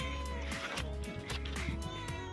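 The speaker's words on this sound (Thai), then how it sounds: "แมวพื้นที่เจ้าของ รีสอร์ท" A resort cat at a campsite in Khao Kho gives short meows close by, over a low background hum, with a voice softly present.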